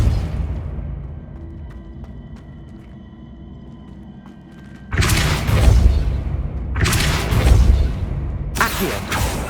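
Depulso repelling spells go off in the Hogwarts Legacy video game: after a quiet stretch, three loud, booming bursts follow in quick succession, each a broad thump with a noisy rush, close and forceful.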